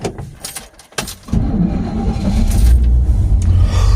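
A farm truck with a sticking electric choke cranks briefly with jangling keys, then catches and settles into a loud, steady, rumbling idle close by.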